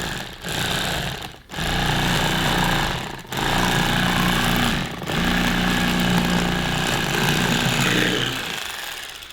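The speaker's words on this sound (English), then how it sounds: "you're just going to run your knife down the whole fillet" An expensive electric fillet knife buzzes loudly and continuously as it cuts along a fish fillet, its motor drone dipping briefly a few times, with no talking.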